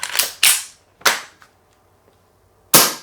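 An Umarex T4E HK 416 CO2 paintball training marker fires four sharp, loud, close cracks with uneven gaps. Fainter clicks of the bolt being worked fall between the shots.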